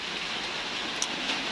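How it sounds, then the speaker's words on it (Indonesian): Steady, moderate rain falling, an even hiss of drops with a couple of brief louder splashes, no voices. "hari ini cuaca terpantau kelembapan tinggi dengan adanya hujan ya, basah semua"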